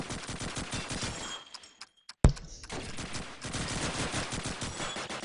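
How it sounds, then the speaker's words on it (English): Dense automatic and rapid gunfire from a competitive online shooter match between national teams, sustained volleys that cut out briefly into near silence, then a sharp loud report and renewed continuous shooting. "Bullets fly all over the place and Vance killing Kodia."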